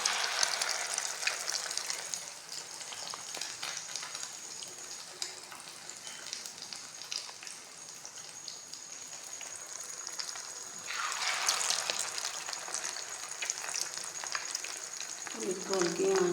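Chicken shami kababs coated in egg fry in a pan over low heat, giving a steady soft sizzle with a brighter hissing surge partway through and light clatter near the end.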